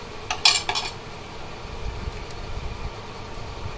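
A utensil mixes egg in a pan for a paratha roll, giving a quick cluster of sharp metallic clinks before a soft, low rumble continues quietly.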